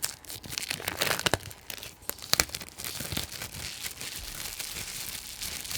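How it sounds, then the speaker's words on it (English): Paper crinkles and tears as it is pulled from a package, with a run of sharp crunchy bursts early on and a steadier, softer rustle after, all close to the microphone and free of speech. "Nice crinkled paper."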